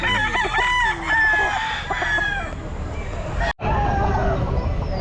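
A young rooster (stag) crows repeatedly at a busy pet market, its long cock-a-doodle-doo calls loud and close amid clucking fowl and crowd noise, with a brief dropout near the end.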